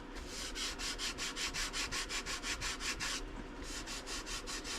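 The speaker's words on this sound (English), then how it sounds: "I won't sand this all with you so I don't bore you to death" Close, steady back-and-forth sanding strokes scrub along the rim of a resin terrazzo-style tray, a rapid regular rasping rhythm that breaks off briefly and then resumes.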